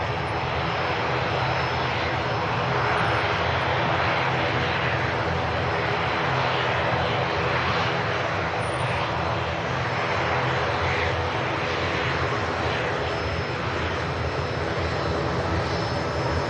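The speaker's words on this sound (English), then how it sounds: "Euro wings, Airbus A319." An Eurowings Airbus A319 landing at Manchester Airport: a steady, broad jet engine roar holds at an even moderate level throughout, heard from outside with no voices.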